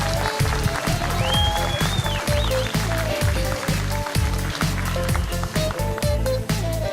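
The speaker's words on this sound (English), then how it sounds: "give a very warm welcome and a very warm applause" Audience at a corporate event applauding to welcome the company founder, a continuous spread of clapping over a steady rhythmic beat with a faint whistle.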